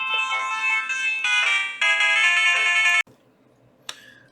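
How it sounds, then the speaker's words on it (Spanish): A phone ringtone plays an incoming-call melody, loud and close, in a few bright repeated phrases that cut off abruptly, followed by near silence and a brief click. "tuve que cortar porque justo me llaman por teléfono"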